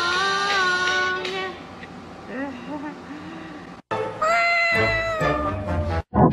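A small cat meows in several drawn-out, wavering cries, mixed with other voices and background noise.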